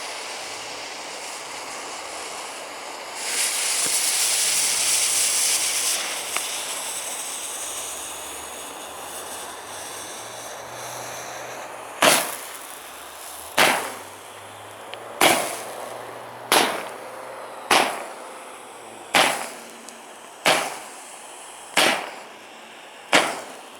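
A loud hiss gives way to a series of sharp fireworks bangs, about ten shots fired at regular intervals in the rain, with background rain noise; the fireworks are wrapped in cling film.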